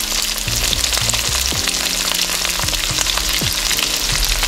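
Scallions, ginger and chili sauce sizzle loudly in a pan for a Taiwanese beef noodle soup base, a dense close crackle with occasional stirring knocks and no voices.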